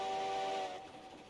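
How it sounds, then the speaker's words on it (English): A Heisler steam locomotive whistle in Railroads Online sounds one loud, breathy, chord-like blast that hisses and then fades out quickly. "one of the things why is it my favorite one is the whistle. It's something else than other whistles."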